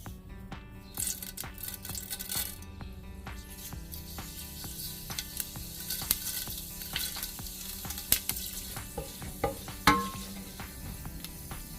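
Fenugreek seeds and spices frying in oil in a pan for a coconut fish curry, a steady close sizzle with scattered clinks and scrapes of stirring.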